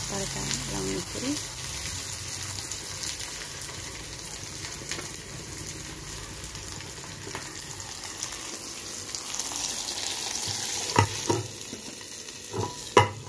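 Dal tempering (tadka) fries in a pan, a continuous close sizzle and stirring with some watery hiss, ending in a couple of sharp utensil clanks.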